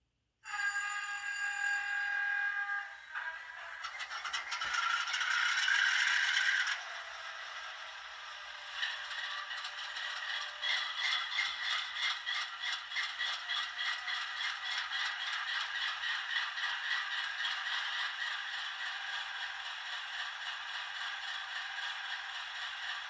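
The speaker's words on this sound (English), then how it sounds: "It's got ESU lug sound in it, so we're going to power it up." A model locomotive's ESU LokSound decoder starting up: a brief tonal beep, then a rising mechanical whir settling into a steady rhythmic diesel-engine chug that continues throughout.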